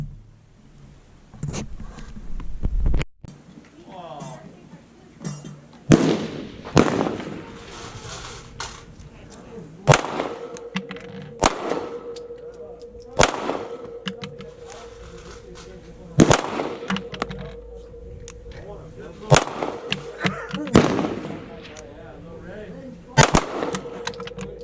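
Several sharp pistol shots from a CZ 75D PCR Compact with Truglo TFX sights, fired offhand at a range, come at irregular intervals of a few seconds, loud and close, each with a short ringing tail.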